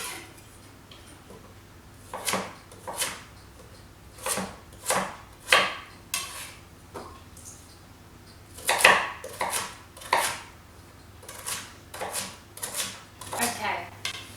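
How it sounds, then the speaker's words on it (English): Knife dicing sweet potato on a cutting board, a series of sharp, separate chops at an uneven pace, close by, with a faint low hum underneath. "I've gone and diced my sweet potato"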